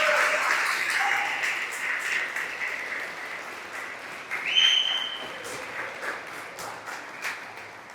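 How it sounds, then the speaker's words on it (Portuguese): Applause from a church congregation praising Jesus during a Portuguese-language worship service, a steady wash of clapping that holds across the stretch and swells briefly partway through. "Esse aplauso é para Jesus, não é para você não, hein?"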